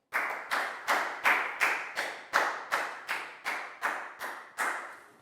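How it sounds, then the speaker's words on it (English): A classroom of Year 4 pupils applauds a classmate with about thirteen sharp, evenly spaced clap bursts, each loud and quickly fading, keeping a steady rhythm without any talking. "Big round of applause for Prel,"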